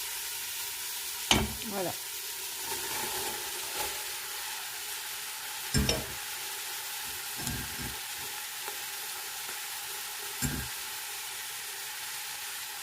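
Leek whites and greens sizzle steadily in a pot for homemade soup, giving a constant close hiss broken by several louder clunks and scrapes of stirring. A voice speaks one brief word.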